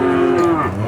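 A Limousin cow lets out a loud, close moo with a steady drawn-out tone at a busy cattle market.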